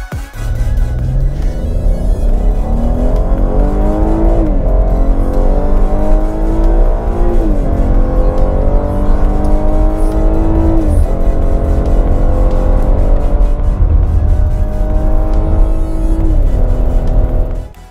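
Chevrolet Blazer RS with a 3.6-litre engine accelerating hard, loud rising engine note climbing through several gear changes with brief dips between shifts, heard close and sustained.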